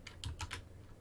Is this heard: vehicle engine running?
no